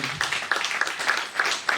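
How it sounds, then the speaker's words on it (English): Audience at a national project management conference claps in a short burst of light, evenly spaced claps, moderately close and fairly quiet. "let's give a big round of applause to the President"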